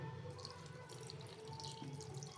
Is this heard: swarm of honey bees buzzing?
no